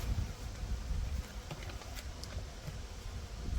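Honey bees buzz around an opened hive during autumn apiary work, a steady low drone that carries on unbroken throughout, with a few faint sharper ticks and no talking.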